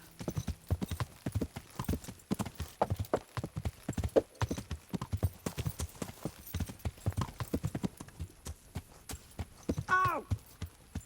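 Hooves clip-clop at a steady walking pace while a horse is ridden in the medieval game Kingdom Come: Deliverance, with a brief neigh near the end.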